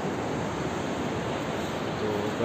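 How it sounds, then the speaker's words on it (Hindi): Roaring sea waves at Kund Malir beach on the Balochistan coast, a steady, loud wash of surf that fills the whole moment without a break, with no voices over it. "शोर मचाती लहरें"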